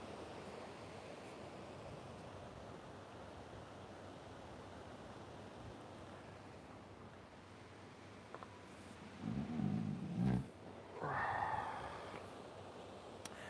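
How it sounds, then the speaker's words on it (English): Ocean surf at Pacific Beach rolls in as a steady, soft wash of broadband noise, distant and continuous, with a few louder bumps and rustles near the end. "start to tune into the sound of the ocean"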